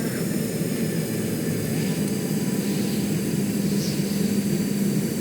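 Aircraft engine in Stormworks, a steady, loud droning hum holding constant throughout with no break.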